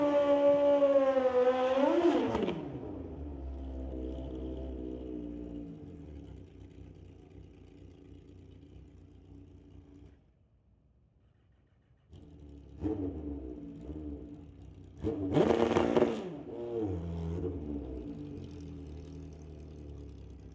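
Tom Tran's Kraken drag motorcycle making a single pass down the strip at Mission Raceway Park, a loud rising engine wail that fades into low rumble, drops out briefly, then returns with another sharp revving burst.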